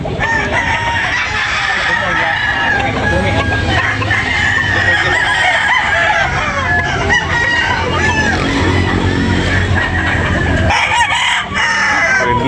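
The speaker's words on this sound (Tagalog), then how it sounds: "Mga guwapong manok." Roosters at a poultry expo crow repeatedly and cluck over a steady background of crowd chatter, close and loud for the whole stretch.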